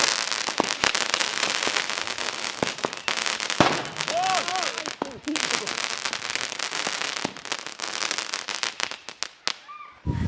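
Fireworks crack and pop in rapid, irregular bursts of sharp bangs and crackles, loud and close, with a few whistling rises among them and voices talking underneath.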